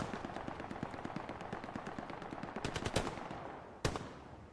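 Rapid machine-gun bursts rattle through a 35-versus-35 multiplayer video game battle, rhythmic and steady, broken by a few sharper, louder shots, all fairly faint and distant.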